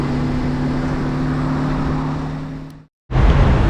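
A car driving through the town of Novohrad-Volynskyi, with a steady engine and road roar heard from inside the cabin that cuts out briefly to silence and then returns louder, with no talking.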